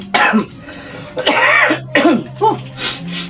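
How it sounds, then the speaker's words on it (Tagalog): Several harsh coughs in quick succession, close and loud, with throat clearing between them. "inuubo na rin ako"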